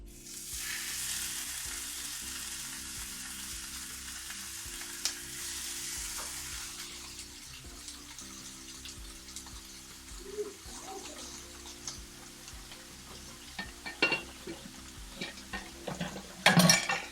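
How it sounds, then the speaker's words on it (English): Steak bites sear in a hot pan, giving a steady, moderately loud sizzle that carries on throughout with a few faint clinks and stirring sounds toward the end. "Because I know I'm going to get a super awesome sear."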